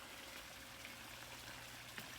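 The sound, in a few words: flowing water in a pond garden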